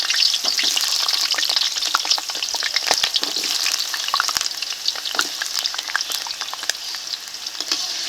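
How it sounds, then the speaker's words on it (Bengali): Potatoes fry in mustard oil in a kadai, a loud continuous crackling sizzle punctuated by frequent sharp clicks and scrapes of a spatula stirring them. "কড়াইতে এখন সরিষার তেল দিয়ে দেব এই তেলে আলুগুলোকে ভেজে"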